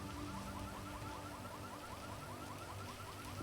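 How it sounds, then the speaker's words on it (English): A car alarm in the video game GTA V wails in a steady repeating warble, fairly faint and distant, over a constant background hiss of rain. "Bro, this fucking car alarm."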